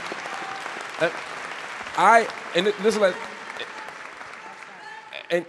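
An audience at a Palestinian rights panel discussion at UMass applauds under a murmur of voices, with loud shouts and cheers bursting out in the middle and again near the end.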